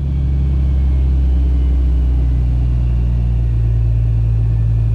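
A 6.7 Cummins turbo diesel engine running at high idle gives a loud, steady, close rumble with a deep low hum that holds without change throughout, and no talking.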